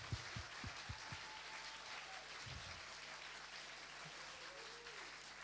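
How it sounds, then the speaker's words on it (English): Audience applause at a university education day award ceremony, faint, steady clapping from a room of people, with a few louder low thumps near the start. "we can give you a proper round of applause"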